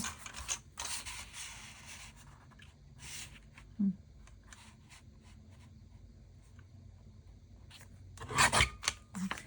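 Paper being cut for a craft model, a dry rasping scrape that runs in short bursts, with a louder snip-and-rustle near the end, close and fairly quiet.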